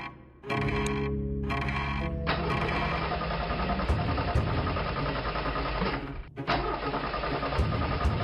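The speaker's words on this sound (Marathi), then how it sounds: "शिट, चालू का होत नाहीये गाडी?" A car engine cranks repeatedly without catching, a series of harsh mechanical whirring bursts close by, continuing as a sustained grinding drone with a brief break.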